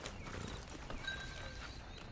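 Horse hooves clip-clopping in Red Dead, a steady walking gait on a dirt path, fairly close and continuous with faint background ambience and no talking.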